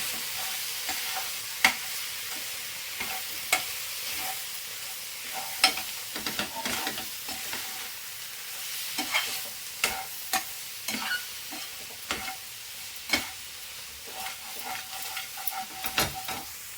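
Spoon stirring chili powder and coriander powder into bitter gourd gravy frying in a pan, with steady close sizzling broken by repeated sharp scraping clicks of the spoon against the pan, no talk.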